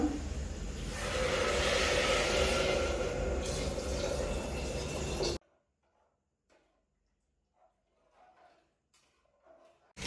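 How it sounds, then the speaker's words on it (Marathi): Water poured steadily into rice in a cooker for masala bhat, a loud, continuous splashing rush for about five seconds that stops abruptly and leaves faint kitchen clatter. "तर आता त्याच्यामध्ये पाणी टाकायचं थोडस"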